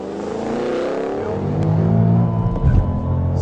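A 2013 Ford Shelby GT500 launches hard from about 3,800 rpm and accelerates, its V8 swelling from a steady rumble into a rising, loud roar with rising engine tones, close by and without talk.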